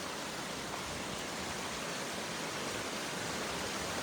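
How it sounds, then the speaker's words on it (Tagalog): A strong river current rushes steadily at a traditional net-fishing spot, a dense, continuous broadband roar with no breaks, fairly loud and close, with no voices over it. "Lakas naman ang agos dyan, oh."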